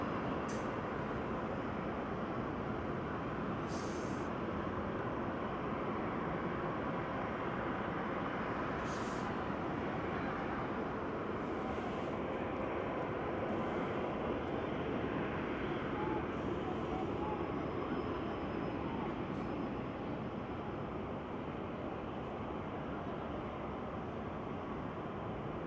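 Airliner taxiing across runway 24 left toward Tom Bradley terminal, a steady broadband engine rumble and hiss lasting throughout, fairly loud and continuous with little change, a few faint higher tones and clicks on top.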